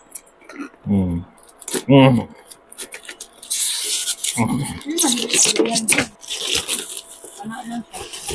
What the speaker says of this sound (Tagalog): So, buksan natin, syempre. Nakaano pa siya eh. May cellophane pa siya eh.